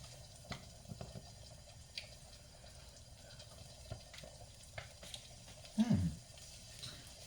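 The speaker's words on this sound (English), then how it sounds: "let me wash out this spoon" A spoon rinsed under a running kitchen tap, quiet trickling water with a few faint clinks, rising to a brief louder splash of flow near the end.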